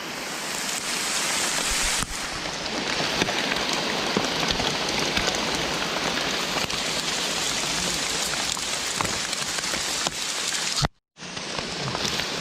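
Steady rain falls on a surface, a dense, even hiss that runs nearly the whole time, briefly cut off near the end before resuming.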